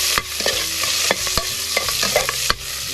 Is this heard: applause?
no